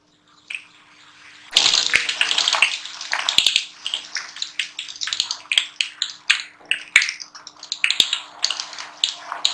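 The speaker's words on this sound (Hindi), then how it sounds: "जैसा हम पूड़ियाँ फ्राई करते हैं गर्म तेल में, हमने इसे भी इसमें ही फ्राई करना है।" Puris frying in hot oil in a kadai, with a sudden burst of loud bubbling and crackling as the dough goes in, then a fizzing, popping sizzle that continues close by.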